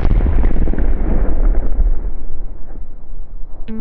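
A large explosive detonation at a defence chemistry test firing range erupts as a loud, deep boom and then rolls away in a long, slowly fading rumble, with no voices over it.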